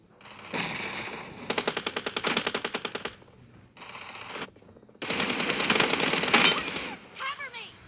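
Automatic gunfire in a PUBG Mobile team deathmatch comes in long rapid bursts separated by short gaps, with a player's voice briefly in between.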